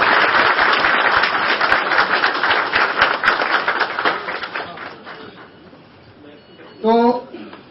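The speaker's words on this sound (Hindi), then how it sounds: "आपकी तालियों की गड़गड़ाहट जारी रहनी चाहिए" Audience applause at a formal welcome ceremony for officials: loud, sustained clapping from a crowd that gradually thins and fades over several seconds, followed by a brief voice at the end.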